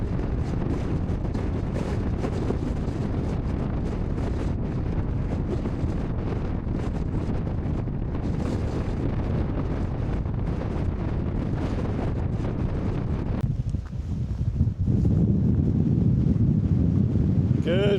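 Strong wind buffets the microphone on a Scottish mountain summit at Sgor Gaoith, a loud continuous roar with gusty surges, briefly dropping near the end before blasting back.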